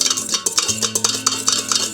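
A spatula folds whipped egg-white meringue in a bowl for an Earl Grey muffin cake batter, making a quick series of soft scraping, tapping strokes close by.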